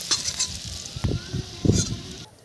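Fish fat fries in oil in a pan with a soft, close sizzle, broken by a few light clinks and stirring scrapes over about two seconds.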